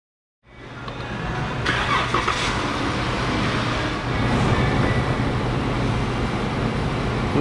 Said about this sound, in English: I'm gonna go start the engine to help to purge some of the air out of this system